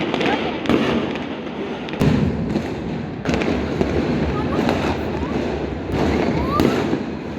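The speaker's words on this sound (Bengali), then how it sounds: "সবাই বারান্দায় গিয়েছি বাজি ফোটানো দেখতে।" Fireworks go off at midnight on New Year's Eve, heard from a balcony as a steady crackling barrage with sharper bangs at intervals, a mix of nearby and distant bursts. People talk faintly under the noise.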